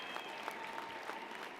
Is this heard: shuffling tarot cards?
no